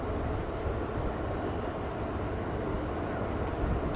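A FedEx Boeing 767 jet on final approach roars as a steady, loud broadband rumble with a faint high whine, continuous and unbroken throughout with no voices.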